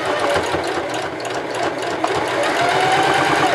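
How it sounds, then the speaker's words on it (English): A Singer 5554 heavy duty sewing machine stitches through thick mask fabric with a fast, steady mechanical whir and rhythmic needle clatter, close and continuous, no talk. "I'm going to sew"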